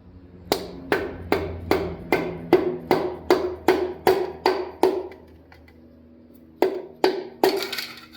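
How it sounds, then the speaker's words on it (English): A hammer taps a piston into place during a service truck engine rebuild, with about a dozen sharp, evenly spaced metallic strikes, a pause, then a few more, all close and distinct. "Then you take your hammer and you come under here."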